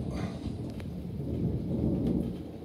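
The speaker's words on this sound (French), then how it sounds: "Vous entendez, on a un bel orage là." A summer thunderstorm heard from indoors, with a low rolling rumble of thunder over a steady hiss of heavy rain, moderately faint and without talk.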